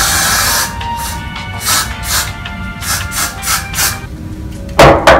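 A product sprayed onto hair during a wig install gives several short hissing bursts in an uneven rhythm, close to the microphone, with handling noise between them and a sharper clatter near the end.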